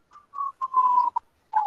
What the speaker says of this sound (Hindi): यार ये कोई सीटी बजा रहा है, मेहरबानी करें सीटी ना बजाएं।